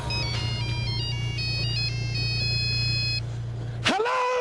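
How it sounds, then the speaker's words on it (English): A very first, old original mobile phone plays its electronic melody ringtone, a bright beeping tune repeating for about three seconds over a low hum, then a voice answers. "that one must have been my very first mobile phone."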